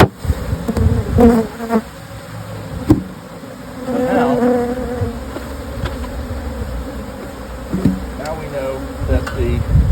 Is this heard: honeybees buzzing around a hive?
yes